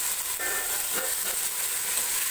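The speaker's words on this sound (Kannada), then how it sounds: "ನಾನು ಹುರುಳಿಕಾಳನ್ನ ಒಗ್ಗರಣೆ ಮಾಡ್ಕೋತಾ ಇದ್ದೀನಿ ಮೊದಲಿಗೆ" Sprouted horse gram fries in hot oil for a tempering, a steady bright sizzle with faint stirring scrapes, close and continuous with no voices.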